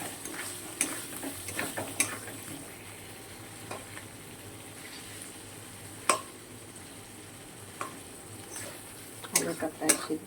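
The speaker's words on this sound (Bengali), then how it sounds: "মশলাটা আরও 2 থেকে 3 মিনিট কষাবো, কষিয়ে তারপর ধোকাগুলো দেবো।" A spice paste for a Bengali dhoka curry sizzles steadily in a pan, broken by occasional scraping clinks of the spoon as it is stirred. A faint voice murmurs underneath.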